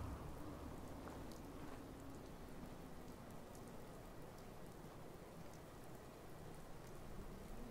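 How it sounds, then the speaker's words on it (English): Steady, gentle rain falls throughout in Fallout 4, a soft continuous patter with scattered droplet taps, no voices present. "The rain, a gentle touch on shoulder and head and hand and heart."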